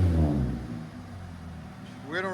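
The 1.8L four-cylinder engine of a 2014 Toyota Corolla S with a muffler delete revs loudly up front and then settles into a raspy idle, with speech over the end.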